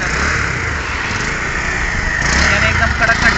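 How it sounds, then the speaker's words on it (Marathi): A Bajaj Pulsar 150 motorcycle with about 30,000 km on it runs steadily at close range, its engine a constant low rumble with a buzzy upper drone, partly under a voice. "इंजिनचा आवाज ऐकू येतो"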